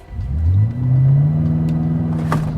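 A BMW M5 Competition with four-wheel drive launches hard, its engine note climbing in a loud, sweeping surge that dips briefly for a shift before rising again. A short sharp click sounds near the end, and nobody speaks.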